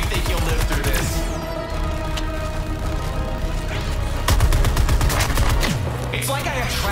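Sustained rapid gunfire from Suicide Squad: Kill the Justice League's boss fight against the Flash, dense volleys and bursts rattling continuously at close range amid game action, with a louder surge of shots near the end.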